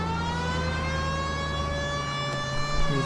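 A police car siren from the video game L.A. Noire wails steadily and loudly, its harmonic tones sweeping slightly over a low engine rumble, heard alone without speech.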